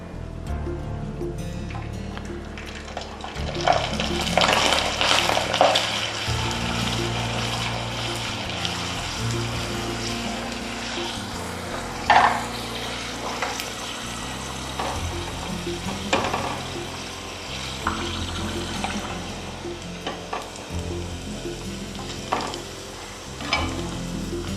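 Rava sandige, small semolina crisps, frying in hot oil, giving a steady loud sizzle throughout with occasional sharper crackles and stirring clinks, no talking.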